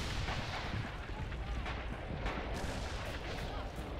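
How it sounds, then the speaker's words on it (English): Artillery fire rumbles through a video game battle, a dense, continuous barrage of booms and blasts that blur together into a heavy, roaring wall of sound with no pauses. "The artillery on the left."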